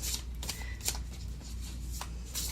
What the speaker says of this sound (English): These are kind of hard to shuffle. They're very, very thick cards.